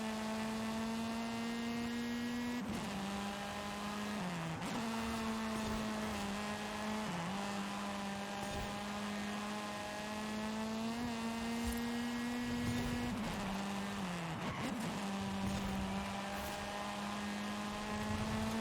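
Race car engine held at full throttle in Forza Horizon 5, a sustained high buzzing tone with brief dips and rebounds at gear shifts or corners, steady and loud with no voices.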